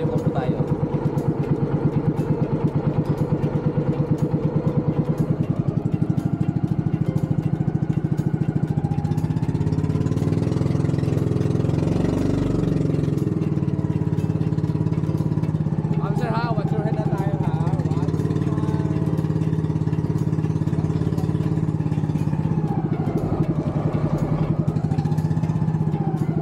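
A motor boat engine drones steadily at close range as the boat enters a tunnel in Siargao at low tide. The loud, continuous mid-pitched putter runs throughout, with people talking over it.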